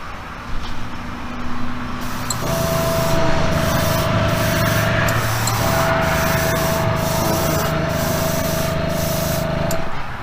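Spray paint hisses continuously onto the base of a custom Hot Wheels Bone Shaker die-cast car, a close, steady aerosol rush with a faint underlying tonal hum throughout.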